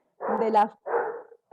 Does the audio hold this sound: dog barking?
yes